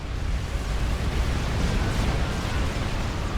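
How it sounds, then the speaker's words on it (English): A nuclear strike detonating on a group of battleships in a strategy video game, heard as a continuous loud rumbling roar of explosion noise that fills the whole stretch without a break. "Looks like this nuke's going down here to deal with these battleships"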